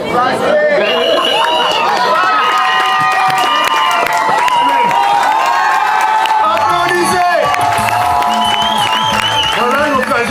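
A large crowd at an event applauds and cheers loudly and without a break, with whoops and raised voices mixed into the steady clapping throughout.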